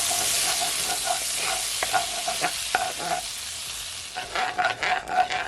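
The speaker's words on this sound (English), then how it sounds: "So now to my pot I'm gonna add at least 1 tablespoon of my butter. Just gonna allow it to melt." Butter melts in a pot over low heat, giving a soft, steady sizzle with light stirring clicks and scrapes, close and quiet, with no talking.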